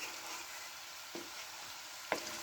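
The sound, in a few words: potatoes frying in a stir fry pan with spicy chicken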